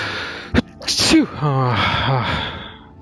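A single loud sneeze close to the microphone, a sharp burst followed by a brief voiced exhale and breathy sounds, heard alone without talk.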